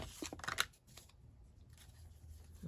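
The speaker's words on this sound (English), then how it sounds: "cut it off here and then just cut here to the side" Scissors cutting material, a quick cluster of crisp snips and rustles early on, then quieter handling noise.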